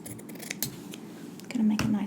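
Quiet crisp snips of scissors cutting, a few close clicks and rustles, ending with a brief hum.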